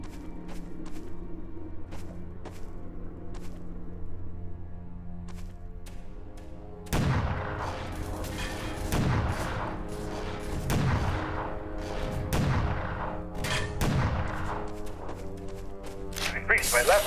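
Big bulky rifle firing in the video game E.Y.E. Divine Cybermancy, a burst of loud sharp shots starting midway after quieter in-game ambience, with someone talking over it.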